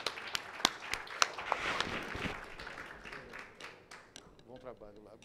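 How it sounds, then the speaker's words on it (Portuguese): A burst of applause from a small crowd at a plenary meeting, sharp scattered claps building then thinning out, with Portuguese voices talking over it near the end. "ficam com o nosso aplauso"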